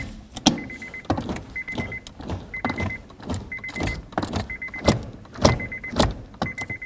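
The parking brake lever on a 2009-2013 Honda Fit is pulled up again and again. About seven rapid ratcheting clicks repeat in an even rhythm, each ending in a soft thud, all close by.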